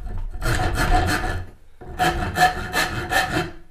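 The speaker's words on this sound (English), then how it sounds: "I'm just going to start doing that with a rasp as well, just taking these corners off here" Rasp working the corners of a wooden guitar neck, rhythmic coarse scraping strokes in two bursts with a short pause between, close and fairly loud.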